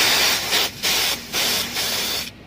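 Refrigerant hose on a window-type air conditioner being purged of air, giving loud bursts of gas hiss in four spurts with short pauses between them, close up and with no talking.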